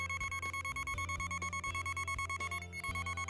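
An Armada Tech Pro871 dual-frequency cable locator emits a rapid, pulsing electronic beep tone while scanning for a buried cable, steady and fairly close with a slight dip near the end.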